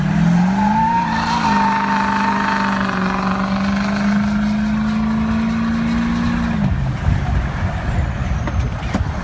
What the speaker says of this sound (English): When you step on it, you can squeal the tires.